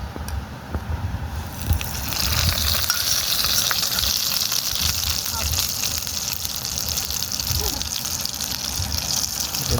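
Asafoetida tempering hits coconut chutney with a strong, steady sizzling hiss that swells after a quieter start and holds loud and continuous to the end.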